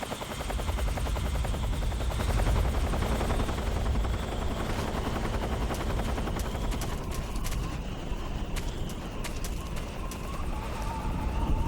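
A helicopter in Metal Gear Solid 3 drones continuously and loudly with its rapid rotor chop throughout, joined by scattered sharp clicks and faint tonal game sounds toward the end.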